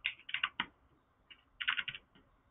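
Keys clatter on a computer keyboard in two quick bursts of close, crisp taps separated by a brief pause.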